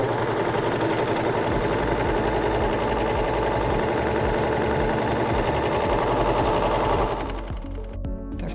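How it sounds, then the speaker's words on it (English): A Singer S0230 serger stitching a three-thread overlock runs at a fast, steady, buzzing whir for about seven seconds, then slows and stops with a few soft mechanical clicks. "let's see what our basic 3-thread overlock looks like"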